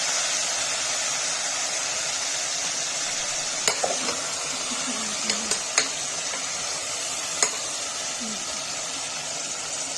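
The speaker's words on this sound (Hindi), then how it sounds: "गाइस देखिए मूली भून रहा है" Steady sizzling hiss of radish frying in oil in a pressure cooker, with a few faint clinks of a utensil stirring.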